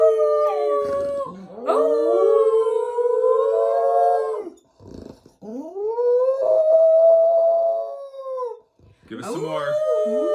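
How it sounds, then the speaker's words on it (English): Charlie the dog lets out long, drawn-out howls that rise and fall in several loud bouts, separated by brief pauses, close to the listener. "You ready to howl it out, Charlie?"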